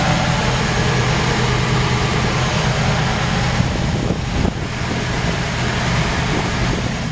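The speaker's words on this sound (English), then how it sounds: "Look at that engine purr." Steady, close idle of a 1950 Ford F-1 truck engine, a smooth low rumble with dense mechanical noise and a brief dip midway, no talking.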